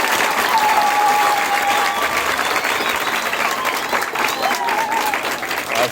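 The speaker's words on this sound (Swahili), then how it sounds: "Makofi kwa wote." Crowd applause at a company-hosted school environmental event, a dense, steady round of clapping from many hands that continues throughout, with faint voices beneath.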